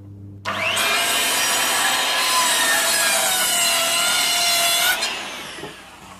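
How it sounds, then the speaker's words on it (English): Circular saw tilted to 45 degrees making a bevel cut through a wooden jack rafter for a gable roof, one loud sustained whining cut about four and a half seconds long, close by, winding down at the end. "our bevel cut that my jack rafter's cut on this roof angle, is a 45 degree angle. So I have my saw on a 45 degree angle."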